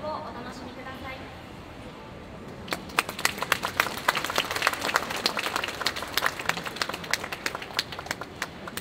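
A mall audience claps along to a high school wind band at a Christmas concert. Quiet murmur gives way to steady rhythmic clapping, close and even, that continues to the end.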